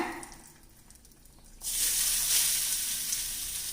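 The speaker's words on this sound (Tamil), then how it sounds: "இப்போ இந்த நெய்லேயே நம்ம கொஞ்சம் தேங்காய் வறுத்து சேர்த்துக்கலாங்க" Grated coconut frying in hot ghee for festive Pongal, a loud steady sizzle that bursts in suddenly after a quieter stretch and holds close and continuous to the end.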